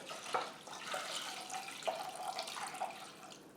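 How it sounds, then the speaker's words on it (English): Liquid poured into a pot of rice toasted with aromatics, oil and butter: a soft, steady splashing trickle with small gurgles, fairly quiet and heard alone. "So we're going to pour in the liquid."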